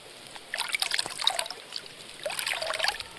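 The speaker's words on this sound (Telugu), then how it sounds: "ఇక్కడ చూసినట్లయితే నీళ్ళు సౌండ్ చూడండి, మొత్తం రియల్" Fresh stream water trickling over rocks at Thumburu Theertham in Tirumala, a close, bubbly babble in two bursts with a brief quieter gap between, no talk.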